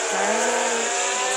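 A motorcycle engine in a video game revs with a steady, loud synthetic whine that holds a constant buzzing tone. The pitch rises briefly at the start, with no other sounds around it.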